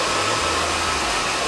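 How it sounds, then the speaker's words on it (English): A blow dryer blasts steadily on hair set with hairspray, a loud, continuous airy whoosh with a low motor hum underneath, close to the microphone and uninterrupted. "grab your blow dryer and freeze it."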